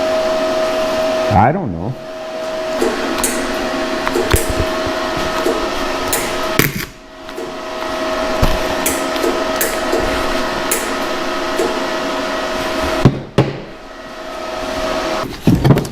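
Welding on a Honda Big Red ATV during a restomod, blowing holes through the metal: a loud, steady crackling buzz runs in long bursts broken by brief pauses, with a short spoken phrase.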